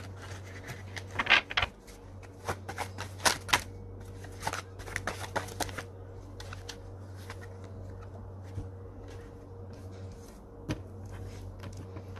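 A deck of cards is shuffled for a card reading, with crisp riffling bursts and soft slaps near the start, then quieter handling over a steady low hum.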